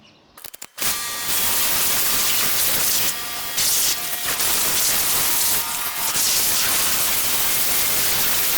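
A coin-operated pressure washer blasts the chain of an SWM RS300R enduro motorbike, a loud, steady, close hiss of spray that starts abruptly after a brief clatter and runs on with slight surges.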